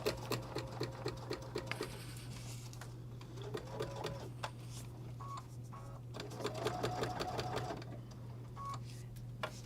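A sewing machine stitches through a bulky faux leather messenger bag gusset and tabs in several rapid, rhythmic bursts with short pauses between, close by and steady over a low electrical hum.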